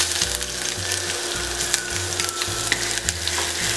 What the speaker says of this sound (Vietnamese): Và các bạn sẽ cho tỏi và hành tím băm còn lại vào.